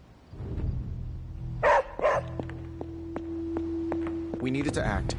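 A dog barks a few times in Marvel's Midnight Suns, with short yips over a steady low game hum and a sustained tone, then a voice speaks near the end.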